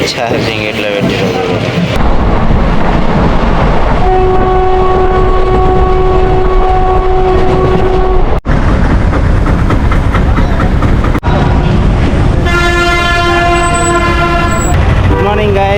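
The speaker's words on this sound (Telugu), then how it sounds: "జనరల్ బోగిలో 600 కిలోమీటర్ ప్రయాణం" A passenger train in a general-class coach on a 600 km journey to Vizag rumbles steadily and loudly throughout, with two long horn blasts cutting through it. A brief voice is heard near the start.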